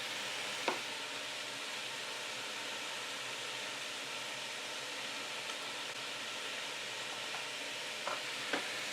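Onion rings frying in a pan for beef dopiaza make a steady, hissing sizzle. A few soft clicks of stirring cut through the even crackle.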